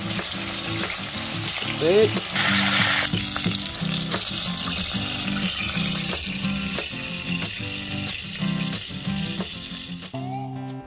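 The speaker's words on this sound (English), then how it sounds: "Not crowd your pan, otherwise the juices run out and end up stewing it rather than frying it." Wild pig meat sizzling and crackling steadily in duck fat in a pan over a camp cook, with scraping stir and utensil clicks throughout and a brief spoken word near the end.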